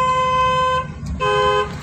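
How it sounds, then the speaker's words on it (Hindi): A car horn on a single-lane road at a blind turn gives two short honks close by, each a steady bright tone with a brief gap between them. "हॉर्न मारो"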